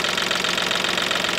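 A Volkswagen Polo engine idles with a steady, even mechanical rumble and light rhythmic ticking, close and loud throughout, with no voices.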